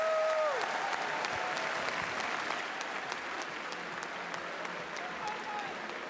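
Sustained crowd applause at a FIRST Tech Challenge robotics competition awards ceremony, dense clapping filling the hall at steady volume for several seconds with faint voices mixed in.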